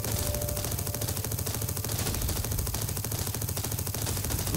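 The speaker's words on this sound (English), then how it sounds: "Those machine guns even go pretty far." Machine guns on a vehicle in TerraTech rattle in rapid, even bursts, a continuous loud stream of shots with a regular rhythm throughout.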